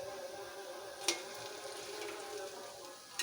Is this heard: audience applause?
no